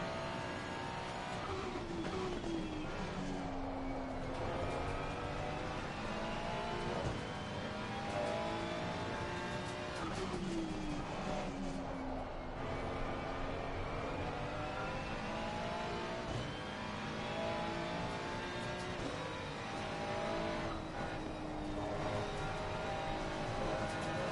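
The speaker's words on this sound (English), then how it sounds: "I'm not revving out the car as much anymore." A GT3 race car engine in a racing video game at a six-hour endurance event at Watkins Glen drones continuously, rising and falling through gear shifts and steady revs, with no one talking over it.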